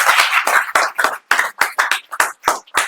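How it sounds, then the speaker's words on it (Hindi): Students in a classroom clap in separate bursts, about nine sharp rounds of hands in quick rhythm, loud and nearby with short silences between them. "चलिए एक और ताली बजाइए।"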